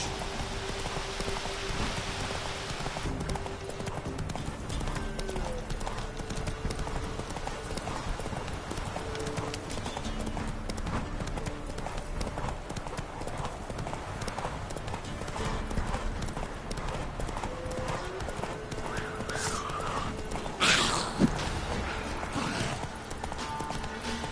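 In The Witcher 3 video game, the horse Roach gallops with a fast, steady clip-clop of hooves that runs throughout, mixed with rain-like ambience. A brief voice comes in near the end.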